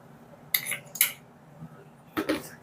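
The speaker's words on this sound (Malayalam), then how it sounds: "ഇനി നന്നായിട്ടൊന്ന് ഇളക്കി കൊടുക്കാം." Spoon scraping and clinking against a bowl while quinoa salad with chopped parsley is stirred, a few separate bursts of tapping and scraping with quiet pauses between, close and moderately loud.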